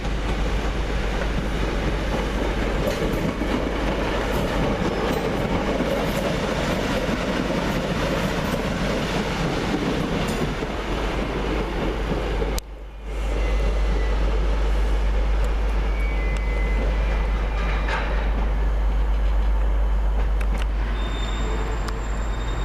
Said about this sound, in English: The East Midlands train service arriving.